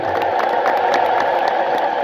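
A crowd ululates nonstop in a steady, shrill, trilling wall of voices at a church celebration at Holy Trinity Cathedral, loud and close, with scattered cheers.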